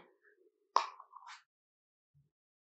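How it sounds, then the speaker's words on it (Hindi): A single soft, close plop as a tablespoon of Vaseline drops into a homemade baking-soda skin remedy mixture, heard alone in an otherwise quiet room. "अब हम इसमें one table spoon Vaseline add करेंगे"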